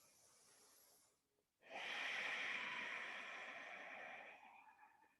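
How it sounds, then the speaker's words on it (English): Close, quiet breathing during a vinyasa yoga class: a soft breath, a brief pause, then a long, full exhale through the nose that slowly fades. "Breathing."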